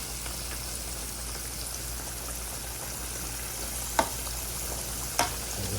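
Chicken fries in hot oil with a steady, close sizzle and crackle throughout, broken by two sharp clicks near the end.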